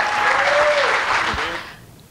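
Audience applause for speaker Lorraine Ball at a startup event, a dense wash of clapping that starts full and fades out over about two seconds, with a faint voice underneath.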